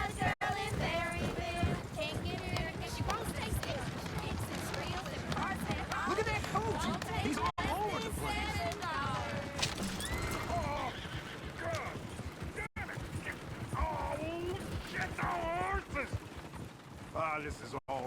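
In Red Dead Redemption II, horse hooves pound and a horse neighs repeatedly amid a busy, continuous scene, with voices and background chatter running throughout.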